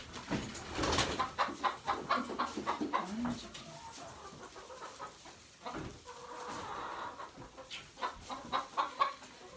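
Chickens cluck together at their roost, a close, busy jumble of overlapping clucks and low chatter that swells and fades over a few seconds.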